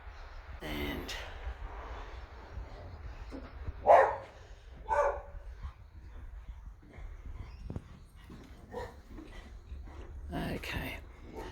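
A dog out in a garden barks a few scattered times, with two clearer barks close together near the middle, among quieter yips and outdoor background noise.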